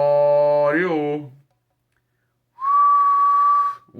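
Loud whistling close to a radio microphone on an old RCI 2980 base station during an audio test: a sliding warbled whistle, a pause, then a long steady high tone.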